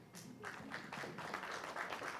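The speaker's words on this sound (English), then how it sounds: "A round of applause, please." Applause from an audience at an SME business forum, a soft, fairly distant patter of clapping that builds slightly and continues steadily throughout.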